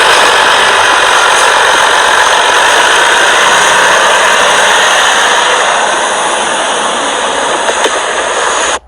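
Audi A4 engine droning steadily and loudly as the car drives through snow, a continuous close roar with no talk over it, cutting off at the end.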